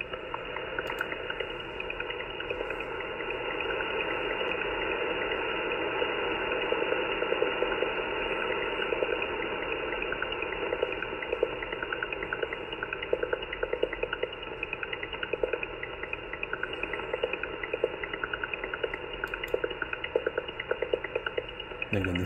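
An unknown digital shortwave radio signal on 11114 kHz at its faster rate: a continuous dense burbling of data tones with quick rhythmic ticks over radio hiss, steady and moderately loud throughout.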